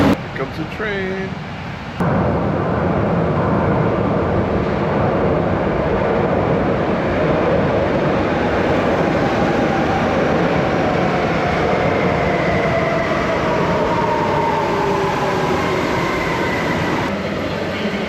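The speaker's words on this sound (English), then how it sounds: "Here comes the train." A train pulls into San Bernardo station in Cadiz, Spain, its steady rumble and rail noise loud and continuous throughout, with a brief burst of voices at the very start.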